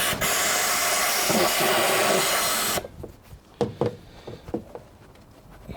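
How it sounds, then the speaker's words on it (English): Compressed air blasts into the spark plug well of a 2014 VW Up 1.0 MPI, a loud steady hiss for nearly three seconds that cuts off abruptly, followed by quieter clicks and taps of tools on the engine. "So a bit of compressed air in."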